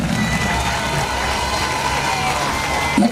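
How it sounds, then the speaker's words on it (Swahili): An audience at a Qaswida competition claps and cheers for a winner, a dense mix of clapping and crowd noise with a voice rising briefly near the end. "Makofi tena basi."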